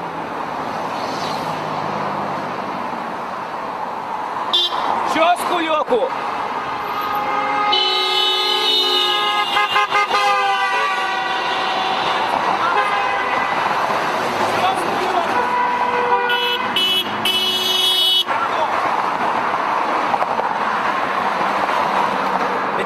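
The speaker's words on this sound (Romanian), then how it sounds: "cetățenii nu stau, nu ezită, nu stau pe gânduri, apasă cu tărie claxonul" Car horns blare in a street protest against Dodon, several long sustained honks overlapping across the middle while someone speaks loudly over them through traffic noise.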